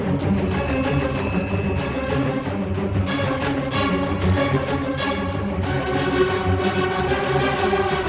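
A telephone rings in a dramatic scene from a Hindi-dubbed action movie: a bright electronic bell-like trill at the start, then a dense, loud mix of ringing tones and music-like layers continuing throughout, with no speech.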